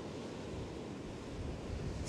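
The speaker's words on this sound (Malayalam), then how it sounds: "സ്ട്രോങ് വേവ്സ് ആണ് ഇവിടെ എല്ലാം കേട്ടോ." Strong ocean surf along California's 17-Mile Drive roars steadily in a loud, continuous wash, with heavy wind buffeting the microphone.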